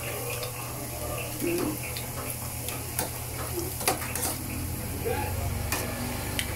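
Banana fries frying in oil, a soft steady sizzle and bubbling with scattered faint ticks and clinks from cooking utensils, quiet and continuous under a low background hum.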